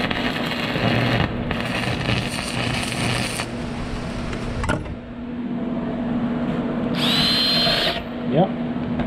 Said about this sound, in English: then I'd start drilling while it's still hot.